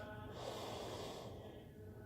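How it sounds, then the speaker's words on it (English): A single slow, audible breath during a yoga sun salutation, a soft airy inhale swelling and fading, close and quiet with no speech. "Breathing."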